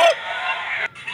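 An Aseel rooster gives a single short, strained crow, close and fairly loud, lasting about a second.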